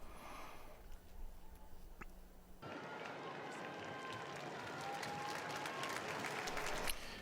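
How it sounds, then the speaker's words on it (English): Crowd applause swells at a papal general audience as the Pope reaches his throne, starting under a quieter murmur and then holding steady as a broad, sustained roar of clapping and crowd noise for several seconds. "you hear the round of applause as the Holy Father reaches his throne"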